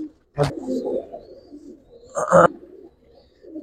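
A Giribaz pigeon coos softly and steadily at close range, broken by two sharper, louder bursts, with no talk.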